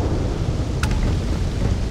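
Thunderstorm on a planet in the Starfield video game: a dense, steady roar of rain and rumbling thunder with a brief sharp crackle of lightning near the middle, no talk.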